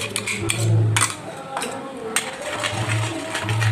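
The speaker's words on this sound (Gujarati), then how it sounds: "પછી આ બધું મિક્સ કરી અને એને 4 થી 5 મિનિટ માટે હલાવવાનું છે" A spoon scrapes and clinks against a pan while mango pulp is stirred into milk for mango peda, giving repeated metallic taps over a low steady hum.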